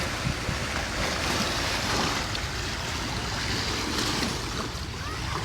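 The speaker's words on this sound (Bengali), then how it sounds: "দেখতেই পাচ্ছেন কি চমৎকারভাবে ঢেউ হচ্ছে নদীর গর্জন নদীর আওয়াজটা খুব চমৎকারভাবে" Evening river waves roaring near Cox's Bazar, a loud continuous rushing wash of water with wind buffeting the microphone throughout, no voices.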